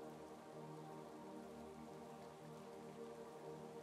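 Gentle, continuous rain with scattered drops on a surface, quiet and even, over a low, steady drone, with no one speaking.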